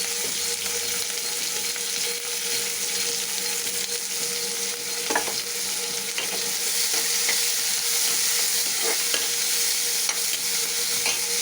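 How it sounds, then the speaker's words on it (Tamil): Onions sauté in a pan with curry leaves, giving a constant, even sizzle with faint stirring clicks scattered throughout, close up and without talk. "வெங்காயத்தை சேர்த்து நல்லா வதக்கிடுவோம்"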